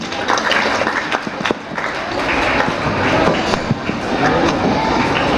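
Applause from a crowd at a school annual day celebration after a sports tournament's winners are congratulated, a dense steady wash of clapping that holds level throughout.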